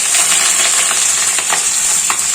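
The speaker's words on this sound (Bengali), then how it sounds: "তেল গরম হয়ে গেছে, কড়াই রেডি দিয়ে দিলাম" Sliced potatoes frying in hot oil in a wok, giving a steady, loud, close sizzle with faint scattered pops and stirring clicks throughout.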